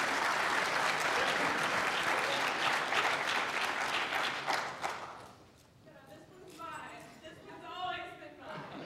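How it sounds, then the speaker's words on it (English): An audience claps for a team at a collegiate cyber defense competition awards ceremony, a loud steady burst that dies away midway, followed by nearby voices talking. "Round of applause for James Madison."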